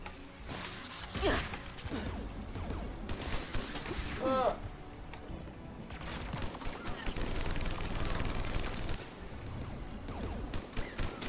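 Enemy turret fire in Mass Effect Legendary Edition, repeated rattling bursts and impacts that run throughout at moderate loudness, with voices speaking over the shooting.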